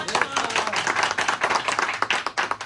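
A small group claps in quick, uneven bursts for a student's diagram during a mobile phone repair class, the claps close and fairly steady over soft background voices.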